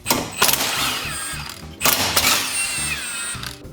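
A hand tool works loose an exhaust clamp under a car with a four-cylinder engine, giving close metallic ratcheting and clicking in two bursts with brief pauses between.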